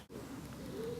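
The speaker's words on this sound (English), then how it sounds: "We can hear the wood pigeons calling." Wood pigeons calling outdoors on a downland walk, a soft low cooing held steadily through the brief moment, moderately near over quiet background.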